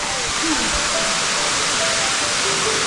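Dao Falls in Samboan, Cebu, a waterfall that roars as a loud, dense, steady rush of falling water, close by and filling the whole scene without a pause.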